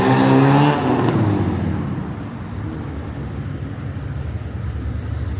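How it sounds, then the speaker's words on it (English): A car revs loudly at close range and then pulls away, its engine roar fading into steady traffic hum on a street in the Orange District. "cars are now turned into noisemakers, and you just heard and saw one"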